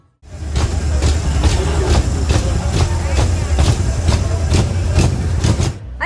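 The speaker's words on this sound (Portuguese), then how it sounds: "o escapamento dele saindo fogo" Volkswagen Beetle with flames firing from its exhaust, a loud, close, low engine rumble punctuated by about a dozen sharp, regularly spaced exhaust bangs.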